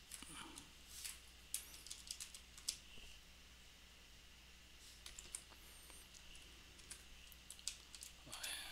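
Keystrokes on a computer keyboard while setting up a Palo Alto firewall, faint and irregular clicking in short runs against a quiet background.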